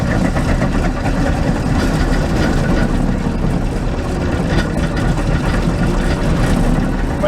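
A farm engine running loud and steady after cranking on a new starter, a continuous low rumbling idle that fills the whole clip with no pauses.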